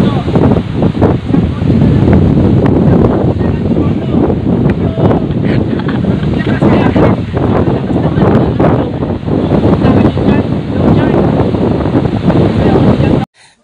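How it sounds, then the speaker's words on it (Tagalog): Strong typhoon wind roars loudly and continuously in gusts, buffeting the microphone, with faint voices buried in the noise. "Sobrang lakas ng hangin"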